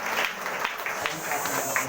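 Congregation at a Sunday church healing service clapping steadily together, a dense continuous wash of applause with a few voices mixed in, moderately loud throughout.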